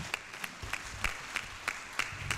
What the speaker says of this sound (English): Let's sustain the applause.